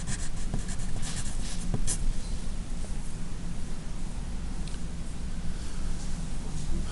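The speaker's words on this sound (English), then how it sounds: "So let's write the rules here." Chalk or marker scratches steadily across a classroom board while field line rules are written, a continuous close rustling scrape with a few sharper taps and no voices.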